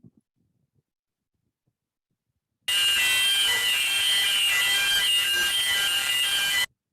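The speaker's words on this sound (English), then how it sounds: "Continuous sound alarm inside the engine room." A continuous alarm tone in a ship's engine room sounds loud and unbroken for about four seconds, then cuts off abruptly, with near silence beforehand.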